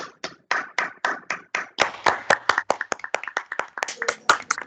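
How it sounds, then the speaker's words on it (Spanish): Audience after the introduction of an architect at a lecture on modern Dominican architecture, clapping in sparse, separate hand claps that thicken into a brisk, uneven round of applause close by. "gracias por los aplausos."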